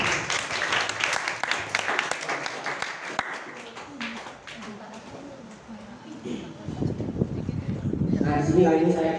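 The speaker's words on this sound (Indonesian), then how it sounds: "tepuk tangan dulu untuk ke-6 orang" An audience at a taekwondo club training session claps for six people, with brisk applause early that thins out as a voice speaks over the remaining stretch.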